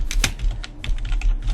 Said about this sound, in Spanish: A ver cómo suena el teclado